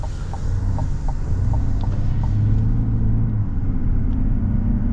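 A 2024 GMC Sierra 1500 AT4 with the Duramax diesel pulls away with a steady, muffled low rumble that swells slightly as it accelerates, heard from inside the well-insulated cab near an interstate.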